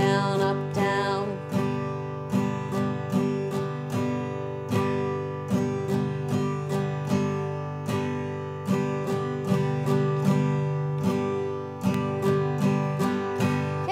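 Acoustic guitar strummed in a down, down, up, down, up, down pattern, sustained chords cycling steadily and loudly up close, alone without speech.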